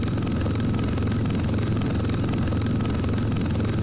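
A helicopter flying in the Roblox game BRM5 gives a loud, constant rotor thump and engine drone with a steady pulsing rhythm and no pauses.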